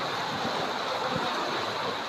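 Floodwater rushes through the Arupadai Veedu hospital in Puducherry after a cyclone, near a medical ward: a steady, loud, broadband wash of flowing water that runs unbroken for the whole stretch, with no voices over it.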